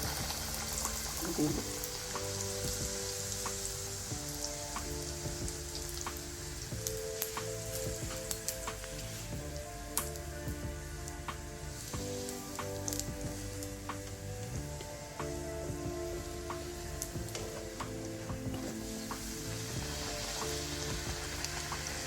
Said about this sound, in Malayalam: ഇത് ഫ്രൈ ചെയ്തെടുക്കാൻ വേണ്ടത്ര ഓയിൽ പാനിൽ ഒഴിച്ചു കൊടുത്തിട്ടുണ്ട്